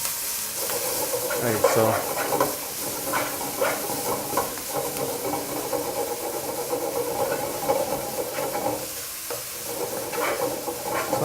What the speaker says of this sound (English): I'm just going to start off by allowing the kale to just absorb all that oil in the pan.